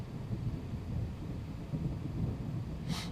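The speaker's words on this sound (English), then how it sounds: "that thunder came out of nowhere" Thunder inside Microsoft Flight Simulator, a low continuous rumble that rolls steadily through the whole stretch at moderate level, with a brief brighter burst right at the end and no talking.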